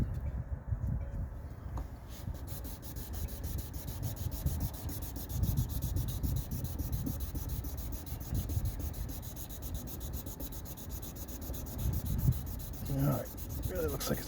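A boat instrument gauge lens is wet sanded by hand with 2000-grit sandpaper, producing a continuous close, soft scratchy rubbing with a steady back-and-forth texture.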